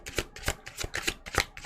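Tarot cards being shuffled by hand, a quick run of crisp riffling bursts with short gaps between them, close and fairly loud.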